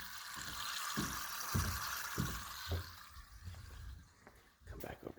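Water running through newly connected plumbing in a basement under construction, a faint, steady hiss with a few soft thumps and knocks, heard from a distance.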